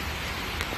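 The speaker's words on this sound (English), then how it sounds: "the rain is absolutely bucketing down" Heavy rain pouring down outside a church, a dense, loud, continuous hiss of drops with a few sharper splashes.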